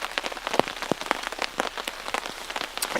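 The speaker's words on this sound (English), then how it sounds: "It's still raining." Steady rain patters on surfaces at a wilderness canoe campsite on a wet day, with dense irregular drops, some close and sharp, others soft and diffuse, and no voices.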